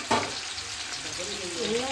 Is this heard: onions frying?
yes